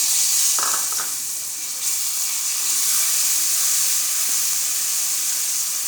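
Dry fruits, including almonds and coconut, being added to a pan of semolina halwa made with milk and egg, giving a steady close hiss and sizzle throughout, with a couple of soft clinks near the start.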